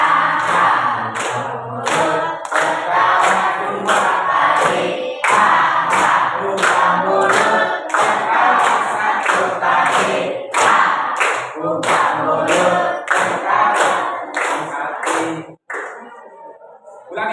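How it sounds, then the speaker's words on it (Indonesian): A group claps hands in steady repeated bursts throughout, loud and close, with voices counting along before the clapping stops near the end. "sambil tepuk tangan ya"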